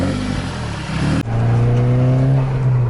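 A Volkswagen GTI Mk6 fitted with a Ko4 turbo drives along, its engine note loud and close, shifting after a brief dip into a steady, strong drone.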